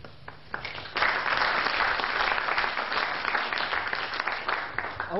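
An audience at an IT presentation breaks into steady applause that swells after a brief pause and continues at full strength, a dense wash of many hands clapping in a hall, with no voices over it.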